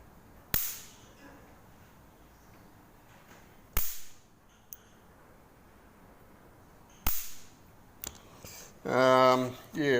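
Sharp high-voltage sparks crack from a modified electric fly swatter fitted with a DC pulse circuit and capacitor, firing intermittently: isolated loud snaps spaced seconds apart, with a brief buzzing burst near the end.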